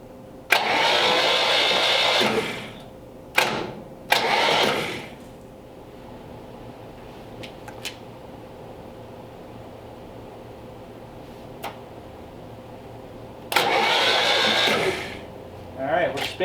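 A sludged 1934 Ford engine cranks over in bursts, two early whirring spins of a few seconds each and a longer one near the end. Quieter gaps lie between them, and brief clicks are heard.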